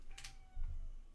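A house cat gives a short meow close by, followed by a soft low rumble, over a quiet room.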